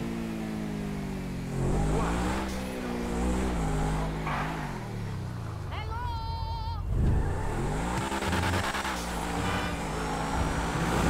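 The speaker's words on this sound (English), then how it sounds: "See me driving here? I'm going 285 now." High-speed car driving in GTA 5, an engine drone with shifting harmonics and brief tonal game sounds, with traffic-like noise throughout and speech faintly present.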